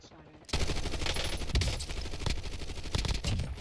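Dense automatic gunfire in Call of Duty Black Ops 6 Warzone erupts after a quiet half-second and runs continuously, loud and close, with sharper individual bursts punching through the sustained rattle.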